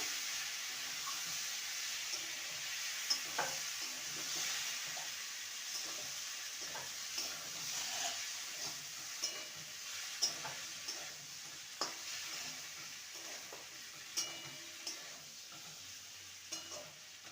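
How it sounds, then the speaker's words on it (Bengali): Fried potatoes and snake gourd (chichinga) being stir-fried with spices in a pan give a soft, continuous sizzle with regular spoon scrapes and taps, fairly quiet and without voices. "এবারে ভেজে রাখা আলু আর চিচিঙ্গা দিয়ে দেবো ভালো করে কষিয়ে নেবো"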